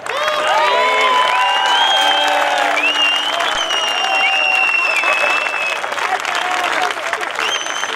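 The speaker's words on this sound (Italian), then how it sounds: "Momento delle fotografie, mi sposto e via con gli applausi per i ragazzi." Crowd applause for a group at a skyrace awards ceremony in Villacidro, steady clapping that holds loud for the whole stretch with cheers and music-like tones layered over it.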